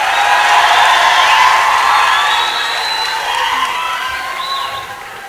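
An audience at a live music performance shouts, whoops and cheers loudly together, the roar easing off slightly toward the end.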